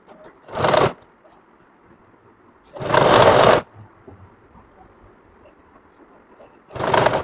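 Sewing machine stitching a collar onto a kameez, running in three short bursts of rapid mechanical whirring, the middle one longest, with quiet pauses between.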